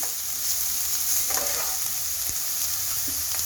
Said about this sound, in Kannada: ಈರುಳ್ಳಿ ಎಲ್ಲ ಏನು ಪೂರ್ತಿ ಫ್ರೈ ಆಗಬೇಕು ಅನ್ನೋ ಅವಶ್ಯಕತೆ ಇಲ್ಲ